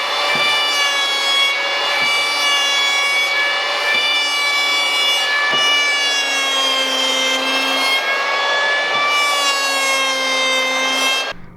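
Hand plane strokes along a rough-sawn timber frame beam, steady rasping shaves repeating in long passes with brief gaps, loud and close with no talking.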